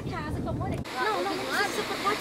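A small waterfall runs beneath a house in the mountain countryside of Minas Gerais, a steady rushing wash of water with people talking over it.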